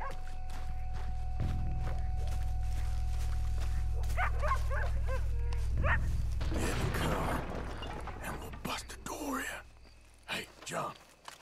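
Dogs in a Western-frontier video game barking and yipping in short clustered bursts over a steady low ambient hum, with footsteps and quiet voices speaking nearby.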